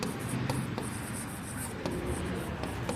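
Pen writing out a math solution on paper in the middle of a lesson, with steady close scratchy strokes and a few sharp taps, continuous and fairly loud with no talk over it.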